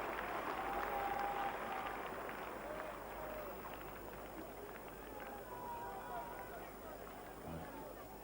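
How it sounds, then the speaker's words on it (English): A cricket crowd at Lord's during the 1980 England v West Indies Test applauds the bowler, a steady, distant wash of clapping that slowly thins, with a commentator talking over it. "Most of the applause today has been for Richards, but this time it's certainly for the bowler, Mike Hendrick."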